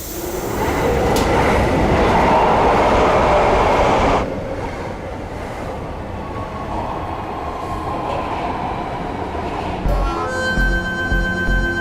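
A metro train rumbles loudly along the track, the roar easing after a few seconds, then a tonal electronic chime sounds near the end.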